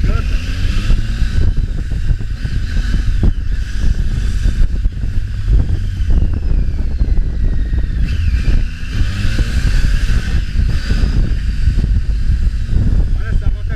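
A Triumph Tiger 800 motorcycle engine drones and rises through gears out on the road, with wind buffeting throughout and occasional speech on top.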